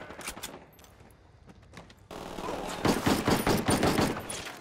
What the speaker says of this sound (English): That gun sounds amazing.